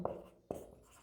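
Chalk or marker writing on a classroom board during a chemistry lesson, two short distinct scratching strokes separated by a brief pause, close and fairly quiet.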